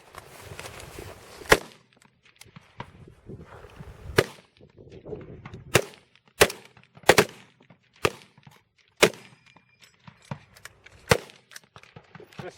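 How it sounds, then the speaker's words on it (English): Rifle fire at an NRA highpower rifle competition, a string of sharp cracks spaced about a second apart, some near and loud, others softer, with quiet gaps between shots. "This is rapid fire you're shooting."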